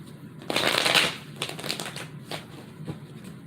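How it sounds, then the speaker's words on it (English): Tarot cards are shuffled close by: a dense riffling burst followed by several shorter shuffling bursts, with no talking. "let's do the shuffling."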